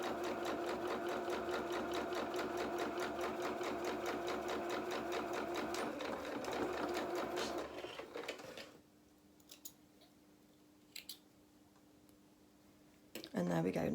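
Domestic sewing machine running steadily while stitching a quarter-inch seam on doll clothes for a cat doll, a dense rapid mechanical chatter that stops partway, leaving a quiet room with a few faint clicks before a short burst resumes.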